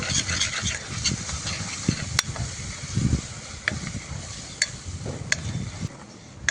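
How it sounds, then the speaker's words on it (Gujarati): Tomatoes and dry spices (coriander-cumin powder, turmeric, garam masala) sizzle gently in a pan while a spoon stirs and scrapes through the mixture, with occasional sharp clicks of the utensil against the metal, for a methi paneer curry. "બધો જ મસાલો સરસ ટામેટા અને બધા મસાલામાં શેકાઈ જવો જોઈએ"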